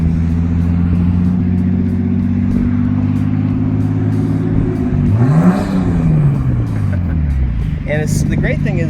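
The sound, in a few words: Nissan GT-R car driving in circles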